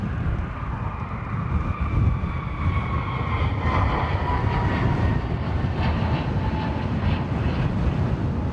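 A departing airliner bound for Washington from Dublin Airport roars in a broad, steady rumble with a rising whine, loud and continuous without a break.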